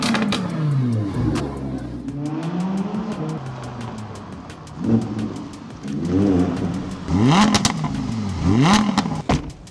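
A salvaged 2019 Mercedes GLE, its exhaust spitting water after long sitting, runs and drives with the engine revving up and down in repeated rising and falling sweeps, loud and close, no voices.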